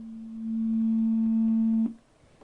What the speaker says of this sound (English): if you just take the harmonic oscillator and convert it to sound, that's what it sounds like